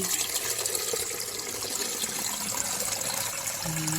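Cooked pork blood mixture for dinuguan with coconut milk being strained, a steady close splashing, trickling pour of liquid through a strainer running the whole time with no talking.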